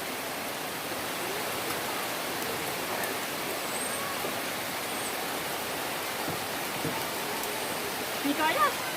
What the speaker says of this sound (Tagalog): Basa-basa. Lakas ng ulan.